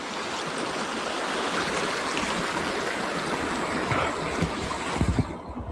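Steady rushing of flowing river water at a crossing point, broad and continuous, close by and moderately loud, with a few louder splashes or knocks near the end.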